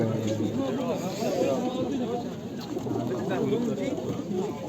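Fantail pigeons coo softly in repeated low, throaty phrases at a bird market, with people talking and murmuring in the background.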